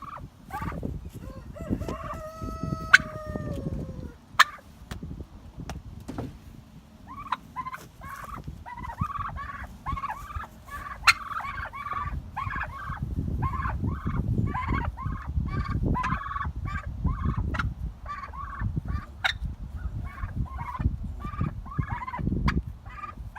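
Chickens calling together in a steady, overlapping chorus of repeated clucks and crowing-like cries, with earlier scattered single calls and a few sharp knocks.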